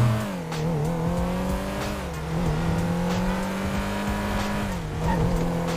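A steady engine drone with shifting pitch, rising and dipping as a Perodua Myvi accelerates and shifts in GTA, with faint tire noise underneath.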